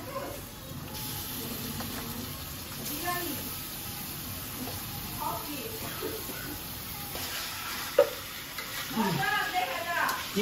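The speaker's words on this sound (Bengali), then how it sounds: "এখন আমি মাংসটা দিয়ে দিব।" Meat drops into a pan of cooked-down spice paste and sizzles steadily while it is stirred and scraped, with voices talking over the frying.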